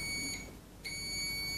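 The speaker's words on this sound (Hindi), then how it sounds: "आपको यहाँ पे बीप की साउंड और रीडिंग आनी चाहिए" A digital multimeter beeps in continuity mode as its probes touch the terminals of a motorcycle horn, a thin steady electronic tone that cuts out briefly and then resumes, with no voices.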